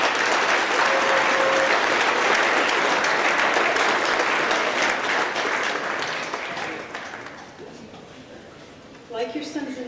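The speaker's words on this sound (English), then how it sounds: "Please give them a round of applause" Sustained applause from a standing audience honoring parents at a high school academic awards ceremony, loud and dense for most of the stretch before thinning and fading, with a voice starting to speak near the end.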